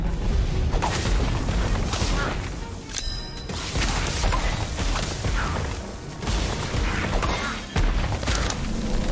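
Incendio fire spell cast in the game Harry Potter: Magic Awakened, with loud, dense bursts of booming, crashing magical impacts that fill the whole stretch with barely a pause.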